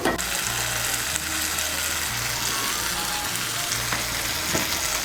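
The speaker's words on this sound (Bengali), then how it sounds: "এখন এর মধ্যে দিয়ে দেবো হাফ চামচ কাঁচা সর্ষের তেল।" Ridge gourd and potato curry with poppy seed sizzles and fries steadily in a pan after a half spoon of raw mustard oil goes in, a continuous close crackling hiss with no talking.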